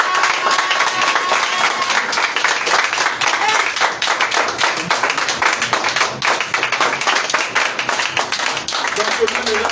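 A congregation at an evening church worship and thanksgiving service claps steadily in rhythm, with voices singing and talking loudly throughout.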